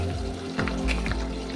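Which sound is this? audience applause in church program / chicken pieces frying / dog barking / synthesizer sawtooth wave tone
chicken pieces frying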